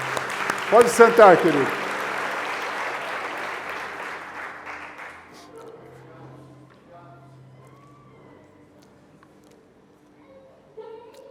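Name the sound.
applause in a church service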